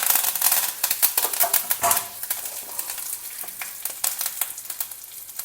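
Urad dal, chana dal, chopped green chilli and curry leaves crackle and sizzle in hot oil, a busy spattering with sharp pops, loudest early on and then settling into a steadier fizz.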